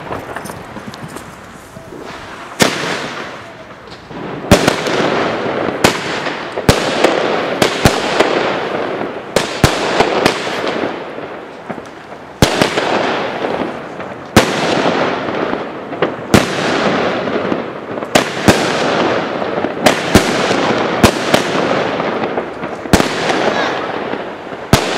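Dozens of sharp firework bangs crack out irregularly over a constant crackling and hissing roar, loud and close, with occasional faint voices in Dutch underneath.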